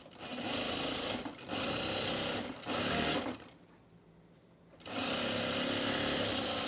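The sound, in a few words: sewing machine sewing fabric mulch mat shut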